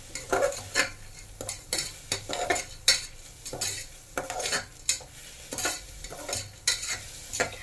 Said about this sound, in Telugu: కందిపప్పు అయితే వేపుకుంటున్నాను